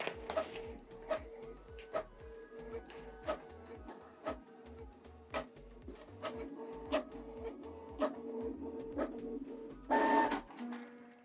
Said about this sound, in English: We printed this single page.